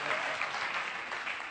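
Audience applause at a Hindi comedy poetry gathering for a Maharaja Agrasen Jayanti festival, a dense, continuous burst of many hands clapping, loud and steady throughout.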